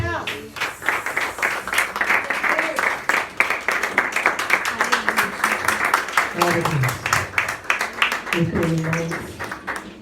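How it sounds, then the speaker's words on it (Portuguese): A church congregation applauding during a worship service, close, loud rhythmic clapping with distinct sharp hand strikes, while voices speak and call out over it. "E você aplaude o Cordeiro."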